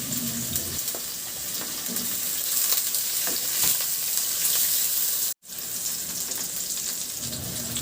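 Garlic and ginger crackle in hot oil in a pan, a steady close sizzle with scattered pops and stirring scrapes. A brief cut to silence comes near the end, then the frying resumes.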